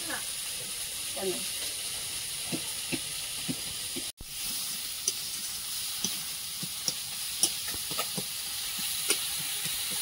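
Bhetki fish frying in a pan gives a faint, steady sizzle with scattered soft pops and clicks, heard close and low in a quiet home kitchen.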